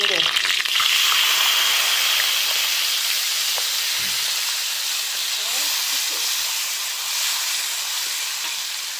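Steady, loud sizzling of blended chili paste frying in hot oil with crisped onions, a constant crackling hiss with occasional clinks of a utensil.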